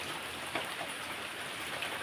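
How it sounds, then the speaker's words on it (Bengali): Steady morning rain falls in a dense, even hiss with scattered drops tapping nearby surfaces, alone and without talk. "তো সকালেই বৃষ্টি শুরু হয়ে গেল"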